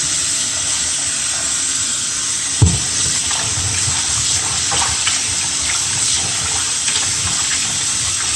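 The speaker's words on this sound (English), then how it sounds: "rinse your meat." Tap water runs steadily into a sink while raw oxtail meat is rinsed under it, a close continuous splashing hiss with one brief clunk and light handling sounds, no talk.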